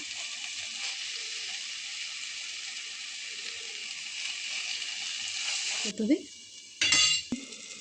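Steady sizzling of eggs frying in masala in a pan, with a spoon scraping and clinking against the pan near the end.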